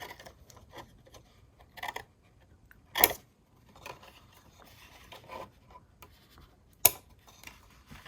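Paper being cut straight across to a corner for a recipe memory box craft, soft scraping and rustling with a few sharp snips or clicks, close and quiet with no talking.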